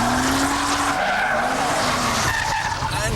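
Opel Omega Lotus tires squealing hard on a racetrack, a loud sustained screech with wavering pitch over a roaring engine, continuous throughout.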